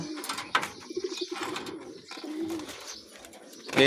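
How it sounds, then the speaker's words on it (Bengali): A pair of white Lakkha Mayurpankhi pigeons coo close by in soft, rolling repeated calls, with a few light rustles between them. "সাদা লক্ষা ময়ূরপঙ্খী কবুতর"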